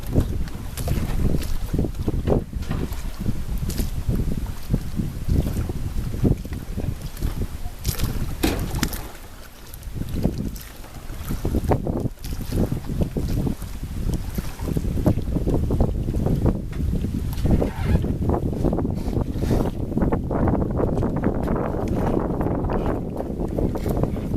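Sailboat heading close to the wind on a southward course off the Connecticut shore: steady wind rush across the microphone with hull and water noise, continuous and fairly loud throughout.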